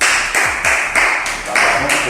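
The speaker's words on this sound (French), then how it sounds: "On applaudit pour nous-mêmes." An audience at a motivational talk claps for itself in a rhythmic, regular beat of about three claps per second, close and loud, with a voice sounding over it.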